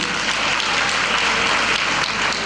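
Sustained applause from a school-awards audience, dense and steady clapping filling the whole moment at close range with no break.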